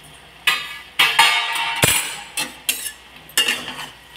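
Metal pan lid lifted and a spoon clinking and scraping through a spinach vegetable curry in a pan, several distinct close taps and scrapes in short bursts, no talking.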